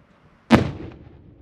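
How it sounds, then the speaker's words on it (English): Half a pound of high explosives detonates in rock during blasting training: a single sharp, loud boom that bursts out of near silence and rumbles away over the following second. "So half a pound of high explosives."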